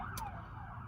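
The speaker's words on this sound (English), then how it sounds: "we have police and maybe fire ambulance driving by" A police, fire or ambulance siren wails with a falling sweep as the vehicle passes a busy intersection at Sunny Slope Road and Cleveland Avenue in New Berlin, Wisconsin, heard at moderate distance over low traffic rumble.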